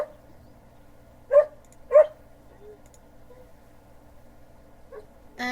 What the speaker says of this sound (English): Sorry about the barking dog there.